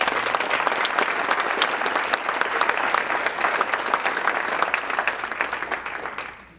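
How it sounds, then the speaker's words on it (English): Audience applause for panelists at the close of a sales and go-to-market talk event in Toronto, dense crisp clapping that holds steady and then fades out at the end. "just round of applause for amazing panelists tonight."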